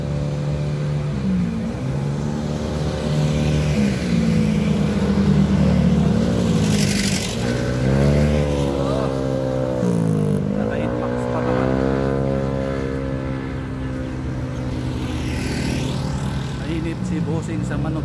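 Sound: motorcycle riding along the road

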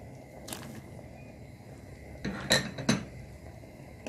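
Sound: stirring rice pudding with cream in a pot

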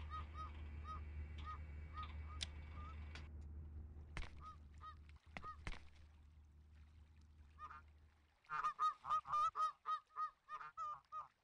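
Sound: geese honking in a video game, Thirty Flights of Loving

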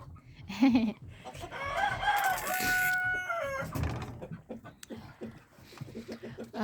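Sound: chickens clucking while being fed

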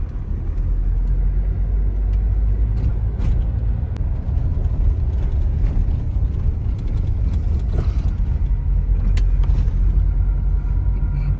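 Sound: car driving toward temple parking

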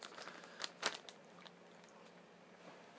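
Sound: chewing crunchy canned salmon with bones

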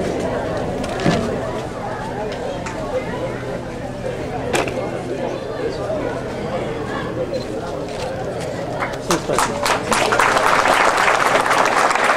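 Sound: applause

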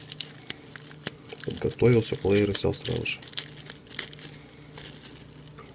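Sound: opening an AliExpress parcel with Xiaomi earphones

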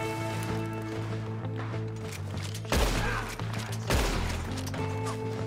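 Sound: gunfire in Red Dead Redemption 2 video game

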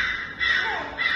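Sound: person imitating a bird call

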